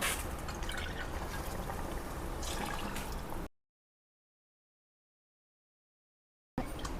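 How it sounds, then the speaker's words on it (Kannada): About three cups of water poured onto soaked rice for mint rice, a brief rushing pour that cuts off abruptly. "3 ಕಪ್ ಅಷ್ಟು ನೀರು ಹಾಕೊಳ್ಳೋಣ."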